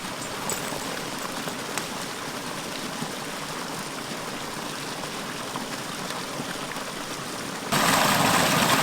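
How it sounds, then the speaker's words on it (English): Steady storm rain pours down at a mountain bothy in a continuous hiss of drops on surfaces, growing noticeably heavier and louder near the end. "So it has just started raining, which is very unfortunate,"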